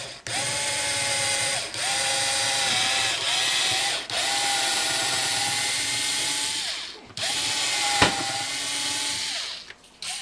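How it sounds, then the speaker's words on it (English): A power drill runs in long whining stretches with brief pauses and speed changes, boring a hole in a guitar body, loud and close, with a sharp click near the end. "We'll drill first the diagonal hole for the element to come up through."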